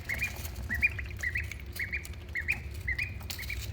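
One-week-old ducklings in a brooder give repeated high squeaky peeps in quick bursts, fairly close and steady over a low background hum, with no talking.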